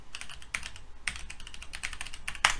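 A password being typed on a computer keyboard: a quick, steady run of close, crisp key clicks, ending in a sharper final keystroke.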